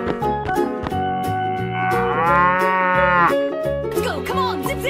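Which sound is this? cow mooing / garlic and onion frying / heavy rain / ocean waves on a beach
cow mooing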